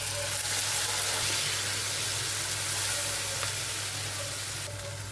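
A pre-made spice paste containing nuts hits hot mustard oil with a bit of sugar in a kadai, giving a loud, continuous close-up sizzle and hiss that eases slightly near the end.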